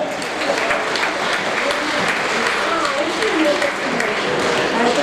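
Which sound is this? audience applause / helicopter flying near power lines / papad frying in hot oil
audience applause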